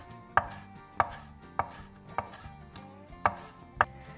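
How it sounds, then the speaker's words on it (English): A knife chops fresh sage leaves on a cutting board in six sharp, evenly spaced strikes, close and clear, with no talking. "I'll just pull those right off of their stem and give these a quick chop up"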